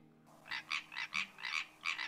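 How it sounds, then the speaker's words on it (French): Kittens in the life-simulation game The Sims 4 give a quick series of about eight short, chirpy, croak-like mews in uneven clusters, faint and close against a quiet backdrop. "C'est pas des grenouilles, c'est des petits chats."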